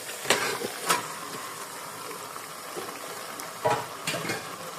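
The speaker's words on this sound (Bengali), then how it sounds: "তা আমি এখন কচুগুলো ঢেলে দিব।" Taro pieces are tipped into a pan of frying spice paste, giving a soft, steady sizzle. A few sharper scraping and stirring bursts come early and again near the end, and no one speaks.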